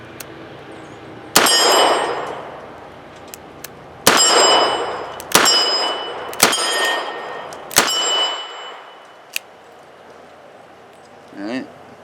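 .38 revolver rounds with low-recoil Trail Boss loads crack out as five sharp reports spaced a second or more apart, each trailing a bright metallic ring, followed by a faint softer pop.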